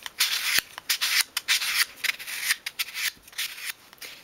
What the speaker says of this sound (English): And then you can just tidy up those edges with a piece of sandpaper.